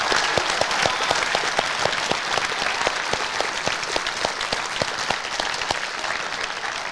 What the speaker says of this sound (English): Want everybody to give our judges a big round of applause.